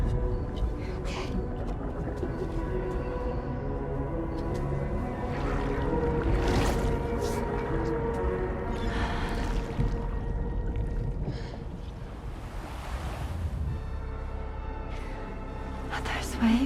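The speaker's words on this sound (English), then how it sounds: "Are those waves?" Ocean waves wash onto a beach in Death Stranding 2: On the Beach, a continuous loud roar and hiss swelling and receding for the whole stretch, with muffled low voices underneath.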